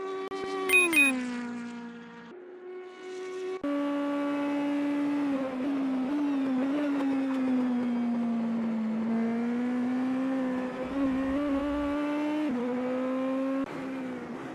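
A race car engine in the Simspeed Super GT racing game drones loud and steady through a turn, pitch dipping and climbing as it brakes and powers out, with a few sharp revs at the start.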